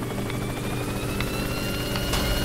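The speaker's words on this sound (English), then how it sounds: "Are you going for the helicopter?" Helicopter in the Worms W.M.D video game, a dense, continuous rotor whir and chop that is loud and close and holds steady throughout.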